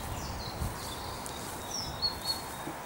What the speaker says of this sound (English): You can hear a lot of birds.